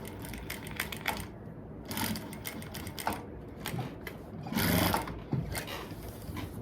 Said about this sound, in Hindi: इलास्टिक के ऊपर हमें सिलाई इलास्टिक के ऊपर लगानी है।